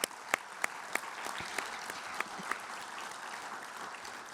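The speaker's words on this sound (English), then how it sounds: "Let's give them a round of applause." An audience at a steelworkers' union annual meeting applauds in a sustained burst, with a few sharp, louder claps standing out near the microphone at the start.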